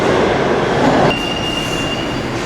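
A New York subway train roars loudly and steadily through a station, a broadband rumble that softens partway through as a thin, sustained wheel squeal rises over it.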